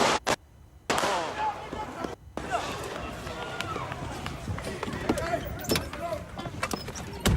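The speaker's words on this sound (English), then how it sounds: "Dude, there's gunshots." Several sharp, loud gunshots ring out at the Capitol Hill Organized Protest, scattered irregularly, with frantic voices and commotion underneath.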